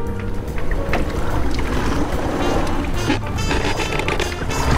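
A small boat moves along under a near-silent Epropulsion Spirit 1.0 Plus 3 hp electric outboard. Steady water rush and wind noise dominate, with only a faint thin whine from the motor underneath.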